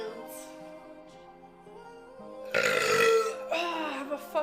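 A woman lets out a long, loud belch that swells in the middle and trails off, preceded by quieter voiced sounds.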